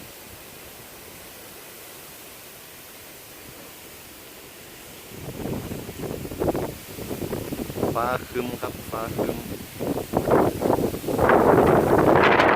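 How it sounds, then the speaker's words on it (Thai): Strong storm wind blowing in Japan as a typhoon arrives, a steady broadband roar that swells louder and gustier in the second half, with someone talking over it. "เป็นวันที่พายุ เริ่มเข้าแล้วครับเข้าในเมื่อวาน นะครับลมแรงมากครับ"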